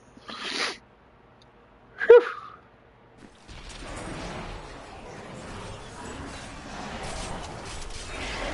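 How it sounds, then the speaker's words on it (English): A single sharp sneeze bursts out near the mic around two seconds in, preceded by a short breathy sound, then broadband rustling and scraping noise follows for the rest of the stretch. "Sneezed my damn headphones off."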